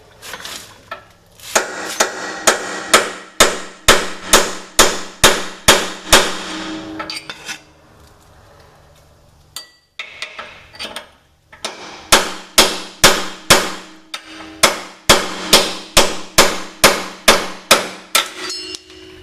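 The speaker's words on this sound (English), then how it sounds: "Need a good sized hammer." Rapid hammer blows ring sharply on metal, two long bursts of steady evenly spaced strikes separated by a brief pause, loud and close, knocking out a ball joint on a 2001 Dodge Ram 3500 dually.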